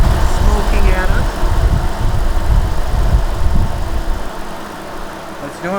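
A 1952 Ford panel truck with a swapped-in Crown Victoria engine idles up close, its exhaust manifold paint burned off, holding a loud, steady rumble that eases a little toward the end, with indistinct voices faintly beneath it.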